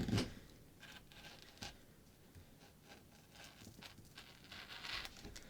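Scissors cut out an adjusted sleeve cap pattern, faint close snips and rustling paper in irregular short bursts.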